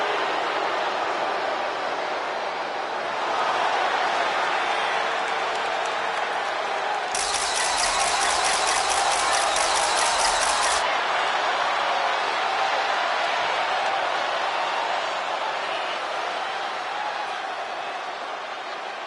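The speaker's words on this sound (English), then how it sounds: "Tiffany Stratton getting a warm welcome from this home crowd." An arena crowd in the WWE 2K25 wrestling video game cheers for an entrance with a steady, moderate roar of cheering throughout and a burst of bright, loud entrance noise in the middle.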